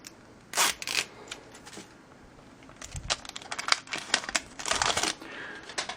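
Crinkly plastic and cardboard packaging rustles, snaps and tears in irregular close bursts as a Canon ink cartridge for a PIXMA MX892 printer is pulled from its wrapping by hand.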